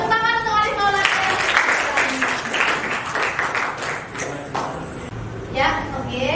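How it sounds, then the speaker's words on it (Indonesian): Classroom applause for a student, a short burst of clapping from a group of students in the middle of the clip, with a teacher talking before and after. "Ya, tepuk tangan untuk Alif Maulana."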